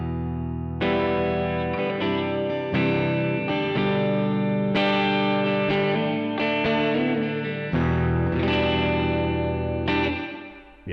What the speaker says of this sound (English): the plate reverb, which I think is a bit brighter if I remember correctly